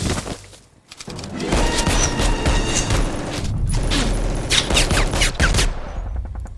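Grenadiers opening fire in a cinematic tabletop wargame battle: dense, sustained volleys of gunfire and machine-gun rattle with booming thuds, loud and continuous after a brief lull near the start, with no voices.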